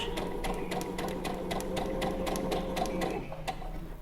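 A sewing machine back stitches along a garment shoulder seam, a brief fast run of rhythmic needle clatter, close and clear, ending in a short pause.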